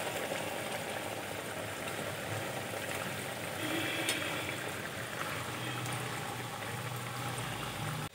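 Sweet gaja dough pieces deep-frying in hot white oil, a soft continuous bubbling hiss with faint crackles throughout.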